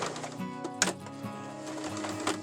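A sewing machine runs fast and steadily, stitching a seam on small denim gnome jeans with a quick whirring rattle and a few faint clicks, heard close and alone.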